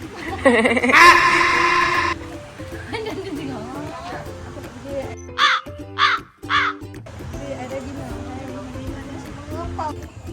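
Several harsh crow caws ring out in a quick series at Zoo Negara while people talk nearby, with a screechy burst early on.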